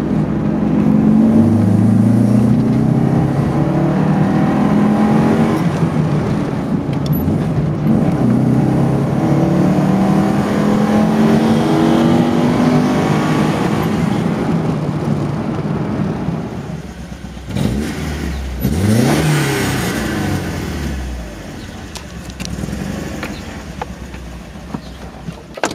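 An Alfa Romeo 33 engine drones steadily while the car drives, the pitch climbing through the gears, then dips and revs up once more; heard from inside the car, with no voices.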